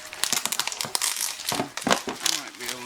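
Packaging crinkles and rustles in quick bursts as tape and plastic are handled and torn, close and busy, with a voice briefly mixed in.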